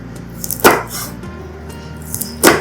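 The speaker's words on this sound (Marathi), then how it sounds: "तर मी आता मिरची पण तशाच पद्धतीने कट करून घेते, बारीक बारीक एकदम." Knife chopping green chillies finely on a board, with a few sharp, distinct thuds spaced irregularly over soft background noise, close and fairly loud.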